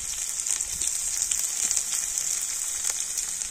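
Finely minced onion and garlic frying in hot oil, a loud, continuous hissing sizzle heard up close and unbroken, with faint crackles and no voices.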